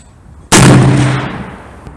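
A single loud shot from a Smith & Wesson 460 Magnum XVR revolver at an outdoor range, a sharp blast with a long decaying ring-out and a faint click near the end.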